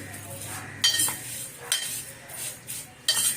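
Vermicelli roasting in a pan over low heat, with a spoon scraping and clinking against the metal in a few distinct strokes over a soft background.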